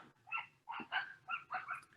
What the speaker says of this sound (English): Excuse my neighbor dogs.